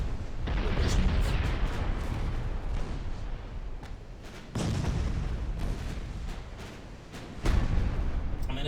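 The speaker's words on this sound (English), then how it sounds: "Come on, perfect broadside here." Warship guns firing broadsides in the Ultimate Admiral Dreadnoughts naval battle game, heavy booming blasts layered over a dense, continuous roar of battle, with a sharper burst near the end.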